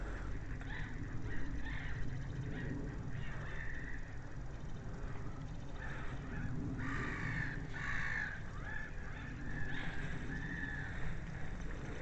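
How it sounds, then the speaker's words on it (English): A Canada goose honks among crows calling outdoors on a sunny walk through a college grounds, with several harsh honks around the middle over steady ambient noise. "And the Canadian goose, one of them,"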